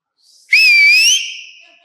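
A loud, sustained two-tone whistle, shrill and close, holding steady for under a second before trailing off.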